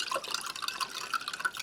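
Cold water pours into a glass of drink powder for an Army MRE beef stew menu, giving a steady close splashing and dripping that rises in short bursts of fill over under two seconds.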